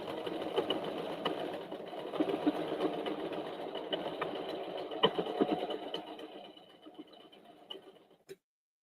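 Sewing machine stitching two fabric pieces of a knotted baby hat together, a steady close mechanical whir running for about eight seconds before stopping abruptly.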